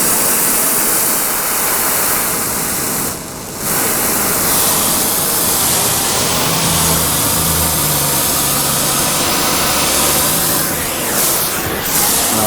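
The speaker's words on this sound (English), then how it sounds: "we got our torches on, our gas on" Gas torches burn in a workshop with a loud, continuous roaring hiss, broad and steady throughout, with a brief dip midway.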